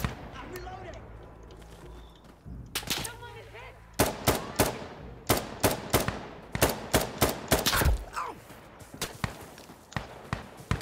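Sharp, loud gunshots ring out in an irregular series of single and double cracks during a firefight in the video game Insurgency Sandstorm, with a voice speaking early on.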